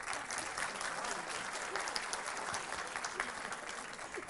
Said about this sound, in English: Once again, a big round of applause for our girls.